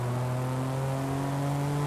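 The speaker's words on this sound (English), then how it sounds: "I'm not really impressed with the stock exhaust." A stock exhaust on a car in Forza Horizon 5 revs steadily, a smooth, muffled, continuous drone close by with no talk over it.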